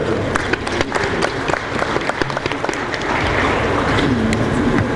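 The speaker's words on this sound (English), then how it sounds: "Please a round of applause for them." Audience applause at a police security summit in Nigeria, a burst of scattered claps building into a denser, steady wash over five seconds, fairly loud and close with no talk over it.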